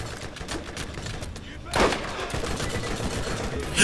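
Rapid gunfire bursts from the video game Borderlands while shooting at an enemy, crackling in quick strings with a louder blast near the middle and another at the end.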